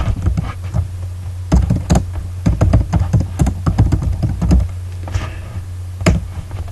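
Keys clatter on a computer keyboard in bursts of quick taps with short pauses, close and fairly loud over a steady low hum, as someone writes code in a text editor.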